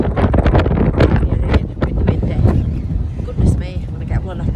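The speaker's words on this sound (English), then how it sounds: "Goodness me, I'm going to get blown off my feet, I think" Strong wind buffets the microphone in loud, continuous gusts, with a voice talking over the roar.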